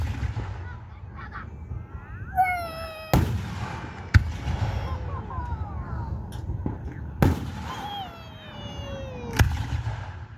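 Independence Day fireworks show at a park, with several sharp distant bangs and crackling bursts spaced through the scene, while people talk and react between blasts.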